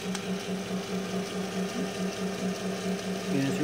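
A homemade 24-inch lap grinder driven by a treadmill motor runs at about 412 RPM, giving a steady close-up mechanical whir with a faint rhythmic pulse, unbroken and alone.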